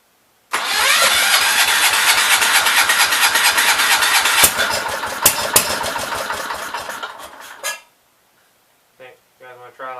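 A Kohler K321 engine cranks and starts, then runs loud and rough with rapid knocking pulses for several seconds before cutting out. Silence follows, then a voice speaks briefly.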